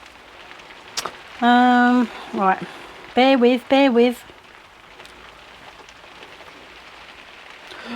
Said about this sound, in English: I've got wet raindrops.